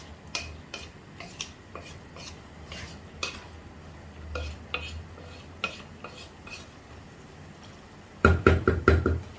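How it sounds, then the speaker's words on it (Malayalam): Kerala-style chicken and potato curry stirred in a pot, with soft scraping and scattered light knocks of a spoon against the vessel, ending in a louder burst of clattering, stirring strokes. "എല്ലാം കൂടി ഇളക്കി യോജിപ്പിച്ച് കൊടുക്കുകയാണ്."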